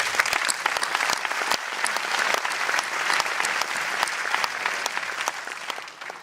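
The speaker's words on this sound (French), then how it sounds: "de les applaudir fortement" Steady, sustained applause from an audience at a French national delegate election assembly, dense clapping throughout without pause, no talking over it.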